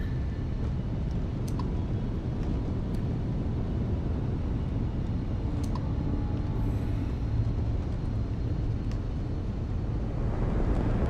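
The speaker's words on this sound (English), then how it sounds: "I hear the engines, but the last time I checked, there's no air in space, so the engine noise shouldn't" Spaceship engine in the video game Starfield, a constant broadband roar and hum at steady loudness throughout, with faint higher clicks and no speech.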